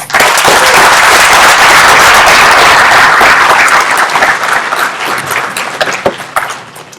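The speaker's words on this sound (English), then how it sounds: "So let's have a round of applause for Jeff." Loud, close audience applause for a speaker at a business and accounting event, with dense clapping for about four seconds that then thins out into scattered claps.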